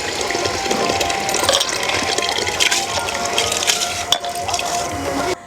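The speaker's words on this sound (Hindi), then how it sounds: "तो यहीं पे हम चावल और पानी दोनों ऐड कर लेते हैं।" Water poured into rice in a pot while making Hyderabadi chicken dum biryani, a steady close splashing gush running almost the whole time with a few small clinks, then stopping abruptly near the end.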